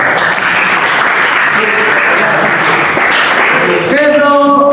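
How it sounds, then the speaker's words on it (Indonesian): A class audience claps loudly and steadily for several seconds before the applause fades and a voice begins speaking. "Oke, tepuk tangan."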